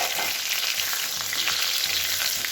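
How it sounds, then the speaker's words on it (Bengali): Potato pieces for a meat dish frying in oil with a little sugar added, giving a steady, close, continuous sizzle with faint stirring underneath and no talking. "এখানে মাংসর আলুগুলো একটু ভেজে নিচ্ছি, আর একটু চিনি দিয়ে দিই তেলটাতে"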